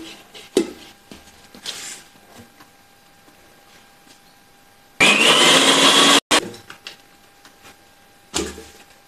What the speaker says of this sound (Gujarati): મિક્સર જારની અંદર તેની પેસ્ટ બનાવીશું